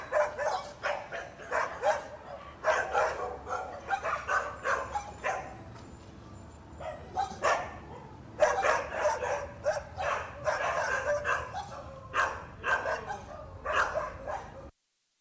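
Several dogs in Piedras Negras bark and yip in bursts, fairly close and loud, with a short lull midway before the barking picks up again.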